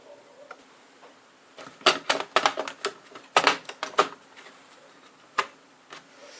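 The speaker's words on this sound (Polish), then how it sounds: "To teraz składam ten cały komputer do kupy." Plastic parts of a Dell Vostro 1540 laptop click and snap as it is put back together, a close cluster of sharp, irregular taps and clacks that thins to a few scattered clicks.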